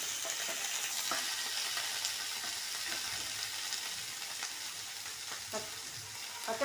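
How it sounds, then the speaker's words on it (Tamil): Onion, ginger and garlic frying in oil for a wheat bonda masala, a soft continuous sizzle with occasional light stirring clicks, fairly quiet and close, no voices. "ஆனியன் போட்டு நல்லா வதங்கணும்."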